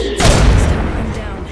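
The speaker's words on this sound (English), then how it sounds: "Grenade." A grenade going off in Apex Legends: a sudden loud, close boom with a heavy low-end thump that rolls into a dense rumbling decay, with voices faintly present around it.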